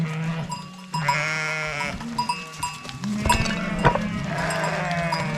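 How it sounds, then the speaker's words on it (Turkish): A flock of sheep bleats repeatedly in a snowy herding camp, with several overlapping calls near and farther off, some long and wavering, and a few clanks among them. "Şu koyun doğuracak."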